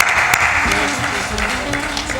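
An audience at a live spiritual gathering with a spiritual leader in Kabirdham, Mustfabad, Lakhimpur claps together in a steady, loud wash of applause, with a voice speaking over it.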